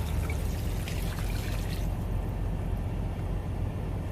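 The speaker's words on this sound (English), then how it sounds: "So this is 4 cups of beef broth that I'm just gonna dump right on top of it." Four cups of beef broth poured from a container into a slow cooker over stew ingredients, a close liquid gush and splash that tapers into a softer trickle.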